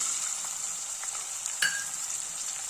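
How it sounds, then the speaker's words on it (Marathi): Chopped onion frying in oil with bay leaf and cinnamon pieces for mutton keema, a bright, steady close sizzle with a few faint clinks and one sharper stir scrape. "आता एक कांदा घालायचा चिरलेला यात"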